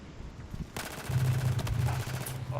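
Rapid automatic gunfire in the video game Battlefield 4 breaks out after a quieter start, a loud close burst of fast repeating shots that carries on to the end.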